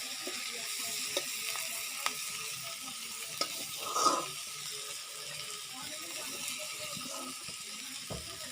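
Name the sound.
spice mixture being sautéed and stirred in a pan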